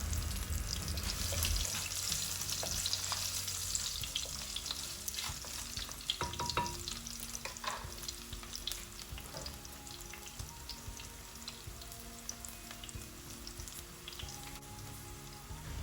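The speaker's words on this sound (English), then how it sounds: "Let this cook until slightly brown." Green chilies, curry leaves and sliced garlic frying in oil in a pan for a Kerala fish curry, a steady crackling sizzle with sharp pops and a few utensil taps, quiet and without talk.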